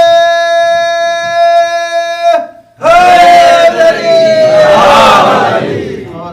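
A crowd at a Shia majlis gathering raises a loud chant of a religious slogan, bursting in after a sustained sung tone breaks off, then swelling and holding strong voices for several seconds.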